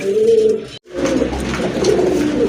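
A female Gola pigeon coos in deep, throaty rolls close by, one phrase cutting off briefly before the next begins, with no one talking.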